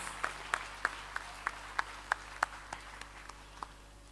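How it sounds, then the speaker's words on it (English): An audience at an annual award ceremony claps in a sparse, evenly spaced rhythm, with sharp distinct hand claps over a quiet room that fade toward the end. "Give them a loud round of applause."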